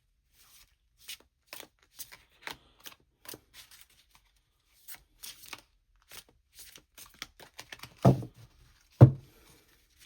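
Cards being shuffled for a card reading make scattered soft riffles and flicks, close and quiet, ending with two louder thumps as the deck is tapped or set down.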